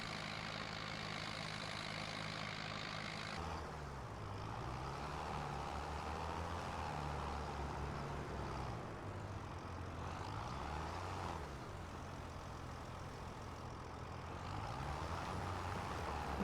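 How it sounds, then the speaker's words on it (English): A big tractor engine in the video game Farming Simulator 25 drones steadily and loudly, its low rumble rising and falling slightly as the tractor works a field, with no talking. "we're going to ride along with the big tractor until it's done"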